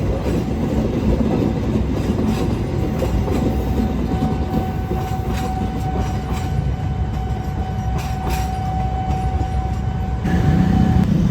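A Motis train on the Jakarta–Surabaya route rumbles steadily at close range, with a continuous low roar, rattling and a sustained tonal whine, no talking.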